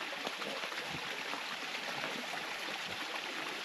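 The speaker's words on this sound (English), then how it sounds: "We're here at this waterfall." A waterfall roars as a steady, dense broadband rush, continuous and even, with no talking.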